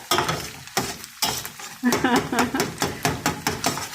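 Egg frying in oil for egg fried rice, sizzling under a rhythmic series of spatula scrapes and taps against the pan, close and fairly loud, with some voice in the background.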